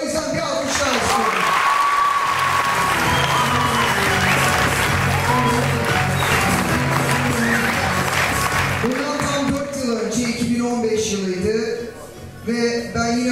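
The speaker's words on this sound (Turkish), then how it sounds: "O yüzden bir alkışlar istiyorum." An audience in a theatre at a school stage performance breaks into sustained, dense applause that fills most of the stretch, fading out near the end, with a voice speaking over it.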